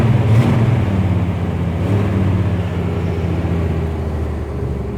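An older car with its check engine light on idles steadily after a cold start in a yard being readied for winter, with a slight rev near the start; the engine note is loud and close throughout, with no voices.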